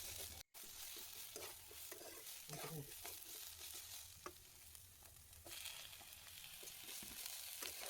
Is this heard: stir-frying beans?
yes